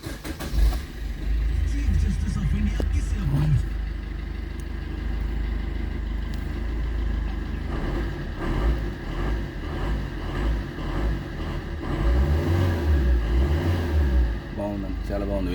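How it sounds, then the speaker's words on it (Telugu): Maruti Brezza ZDI diesel car engine cranking to life, then settling into a steady low rumbling idle with a few rises in revs, close by, with a voice speaking over it at times. "ఒకసారి వెహికల్ కూడా స్టార్ట్ చేస్తున్నాను నేను"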